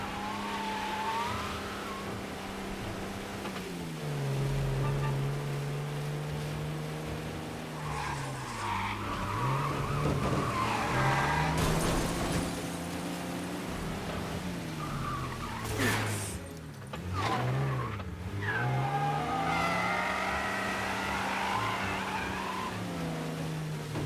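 Car chase in the video game Mafia: an engine revs and strains continuously while tires skid and squeal, loud and close, with sharp screeching bursts near the end.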